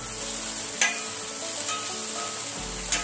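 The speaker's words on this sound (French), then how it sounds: "Voilà, mes oignons commencent à colorer tranquillement." Onions fry and slowly brown in a pan, giving a steady hissing sizzle with a few brief clicks, close up and fairly loud, no one speaking.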